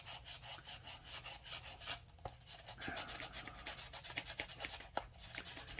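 Steady back-and-forth rubbing of sandpaper on wood while rounding over an edge, a fast rhythmic scratchy sound that is close and fairly quiet, with no voices.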